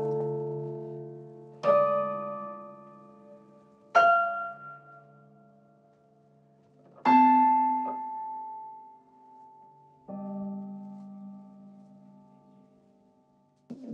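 Four loud piano note clusters struck one at a time, each left ringing and fading before the next, with a final soft cluster near the end.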